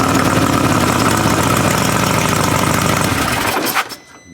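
A Harley Road Glide with a 131 engine runs with a loud, close, lumpy idle that holds steady for several seconds before it is cut off abruptly.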